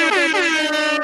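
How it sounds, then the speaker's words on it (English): A single loud, close air horn blares for about a second with a bright, brassy tone, steady and unbroken from start to finish. "I gotta get the air horn."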